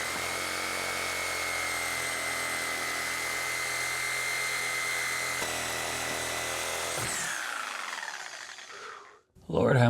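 A power tool blade grinds through tough material, running hot and smoking. It gives a loud, steady whine for about seven seconds, then winds down and stops, with a short burst of noise at the end.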